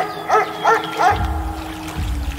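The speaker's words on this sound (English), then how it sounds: "Playing dog sounds." Three quick barks in a row from a dog sound played as a recording, followed by a low rumbling thud as the barking stops.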